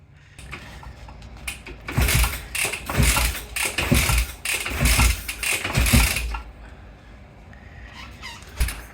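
A 1968 Benelli 350 motorcycle engine being kicked over, with repeated loud bursts of cranking and sputtering firing that build and fade over several seconds before trailing off to quiet clatter.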